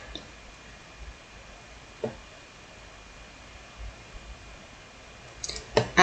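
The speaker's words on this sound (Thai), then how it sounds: "คลิกเมาส์ทางด้านซ้ายครั้งค้างไว้นะคะ" A computer mouse clicks a few times, sharp and isolated, during work in an Excel spreadsheet, with the last clicks coming in quick succession over a quiet background hiss.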